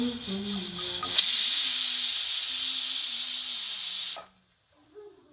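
A loud, sustained hiss of steam bursts from a pressure cooker whistle while cooking beef for about three seconds, then cuts off abruptly into near silence.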